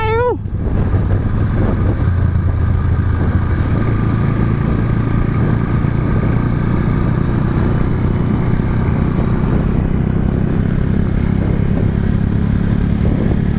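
A motorcycle engine runs loud and close with a constant, rough drone that holds a steady, unbroken level for over thirteen seconds.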